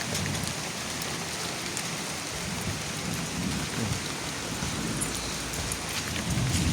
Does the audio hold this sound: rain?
yes